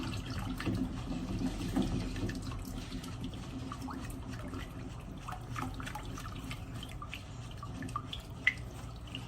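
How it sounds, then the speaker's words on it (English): Homemade anise soap mixture is stirred non-stop after alcohol is added, producing continuous wet sloshing and dripping, liquid scraping sounds with small splashy clicks, close by and without speech. "Now you just add it and keep stirring non-stop."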